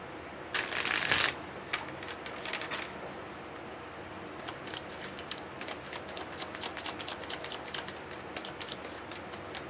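Tarot cards are shuffled close by, a loud riffling burst at the start followed by repeated softer flicking and patter of cards being mixed, without speech.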